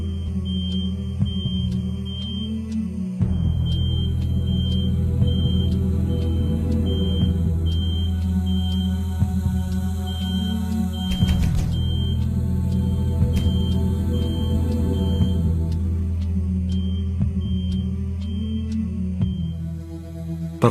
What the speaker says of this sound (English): The smoke alarm was in another unit